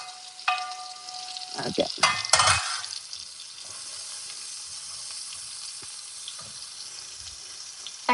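Onions fry in a pan over a gas flame, giving a steady, close hiss of sizzling oil with a few clattering knocks early on and one short spoken word.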